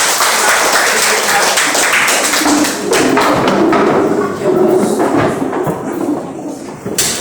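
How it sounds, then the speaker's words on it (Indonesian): Applause from a class of students standing in a classroom during a civics lesson, a dense, continuous patter of many hands clapping at close range with scattered thumps, running steadily throughout. "Tepuk tangan untuk kita semua."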